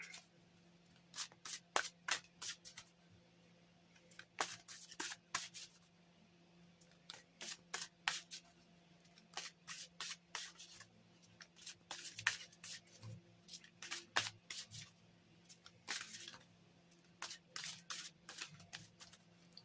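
Oracle cards being shuffled in repeated quick bursts of riffling and rubbing, close and fairly quiet, with short pauses between rounds.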